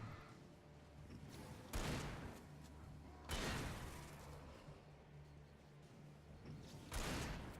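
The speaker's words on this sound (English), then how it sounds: "Shotgun." Shotgun blasts in the video game Alan Wake, four heavy booming shots spaced a second or more apart, each with a long rumbling decay over a low drone, no talking.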